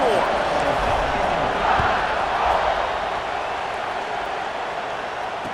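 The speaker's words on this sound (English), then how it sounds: "this crowd is buzzing after that last score" Stadium crowd in EA Sports College Football 26 keeps up a steady, dense roar and murmur throughout, loud and continuous with no breaks, while a commentator's voice sits over the crowd noise.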